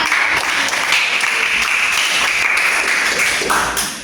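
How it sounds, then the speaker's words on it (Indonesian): Students clap together in an Indonesian-language class for a classmate, a loud, close burst of applause that stays full for a few seconds and then tapers off. "Tepuk tangan untuk Suryati."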